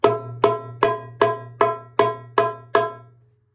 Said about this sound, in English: Then we have another sound, which is the high, is this sound.